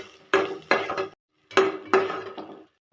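Onions being sautéed in a pan for a peanut chutney, stirred with a spoon: four distinct clattering scrapes of metal against the pan in two pairs with brief pauses, near and clear, no talk.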